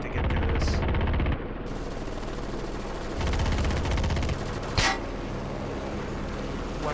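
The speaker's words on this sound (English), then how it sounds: "miniguns are amazing" Sustained rapid minigun fire from a helicopter in the combat game Heliborne, a dense continuous roar in long bursts with brief lulls and a sharp transient near the end, loud and close.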